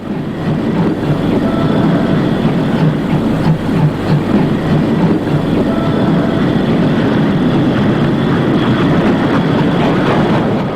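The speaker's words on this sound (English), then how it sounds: "The 2102 tank we saw at Lauscha passes through the station light engine." An East German steam tank locomotive, one of 88 Class 65.10 tanks built in the late 1950s, runs light engine through a station. It gives a loud, steady, rumbling roar with faint rhythmic chuffing and clatter, unbroken for the whole stretch.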